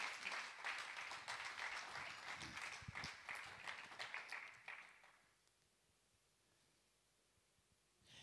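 A Pentecost vigil congregation claps and cheers for the Lord in a dense burst of applause that fades out after about five seconds, leaving near silence before a faint sound returns at the end.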